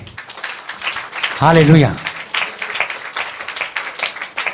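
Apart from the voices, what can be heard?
congregation clapping hands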